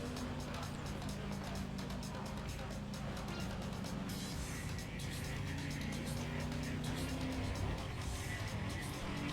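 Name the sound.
car racing at high speed in video game NFS ProStreet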